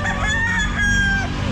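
A wet rooster crows at an outdoor pet market on a drizzly day, a single drawn-out cock-a-doodle-doo with a long held note, loud and close, over steady crowd and market noise.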